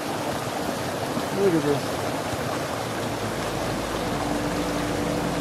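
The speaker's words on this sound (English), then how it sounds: "Panchuela Creek between the campground and the junction with Cave Creek is just beautiful." Panchuela Creek, a mountain creek in the Pecos Wilderness, rushes steadily in morning light with a constant broadband wash of flowing water; someone speaks briefly over it.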